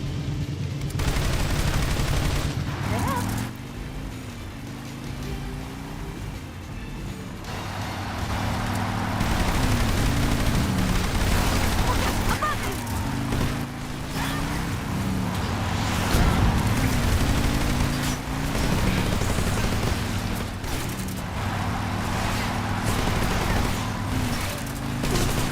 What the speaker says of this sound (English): I'm just firing here. Aim assist and hip fire.